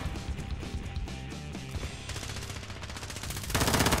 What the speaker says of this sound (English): Shooting at you.